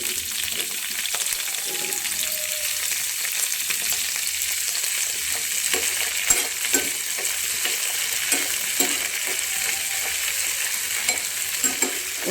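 Fenugreek leaves fry in hot oil for a Telugu chutney, giving a steady, continuous sizzle with light scraping stir strokes now and then, close and even throughout.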